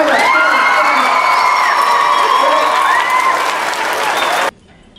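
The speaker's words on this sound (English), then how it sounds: "Stand up and give a round of applause." A standing audience applauds loudly, with cheering and whoops rising over dense clapping for about four and a half seconds before it cuts off abruptly.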